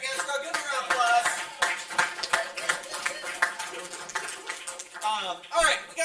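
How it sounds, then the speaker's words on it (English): A team meeting audience gives a round of applause, dense steady clapping from a room full of people filling the whole stretch, with a voice talking over it. "Give them a round of applause."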